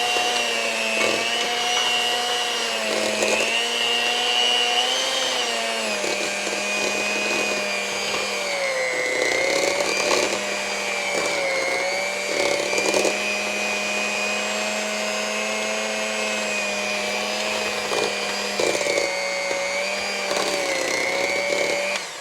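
An electric mixer whirs steadily while blending vegan cranberry pecan cheese ball ingredients, a close continuous motor whine whose pitch dips and rises slightly as it works through the mix, with no talking.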